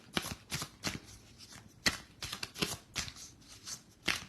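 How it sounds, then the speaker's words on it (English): Tarot cards are shuffled in a series of quick riffling bursts, close and crisp, with short pauses between each pass. "I'm shuffling the tarot"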